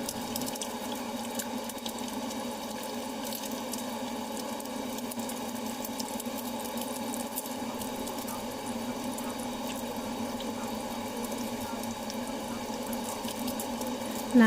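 An egg fries in hot oil while being basted, giving a steady, loud sizzling crackle that runs unbroken for the whole stretch with no talk.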